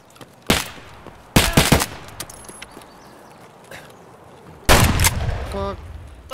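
Gunfire from a firefight in Escape From Tarkov on the Customs map comes in three sharp bursts: a single loud shot, then a quick rattling volley, then another heavy burst. Quieter stretches fall between the bursts.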